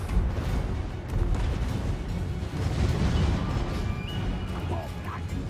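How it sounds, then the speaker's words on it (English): Warp lightning cannon fire in the Total War Warhammer game, a continuous loud wash of booming, crackling battle noise with dense low rumble and no distinct separate shots. "Warp lightning cannon."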